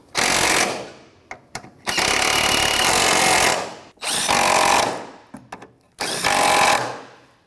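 A power tool drives a 14mm socket to snug bolts while replacing the upper engine mount on a 2001-2007 Volvo V70, sounding in four loud whirring bursts separated by short pauses and small clicks.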